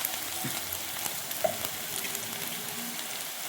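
Masala being added to squid roast as it fries in a pan, a steady moderate sizzle with light stirring scrapes and a single small clink.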